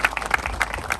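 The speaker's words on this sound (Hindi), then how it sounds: "जोरदार अपन परमपिता परमेश्वर के लिए अपन ताली बजाएं" A church congregation at a New Year service claps together, giving a quick, dense patter of many hands that is steady and moderately loud through the whole brief moment.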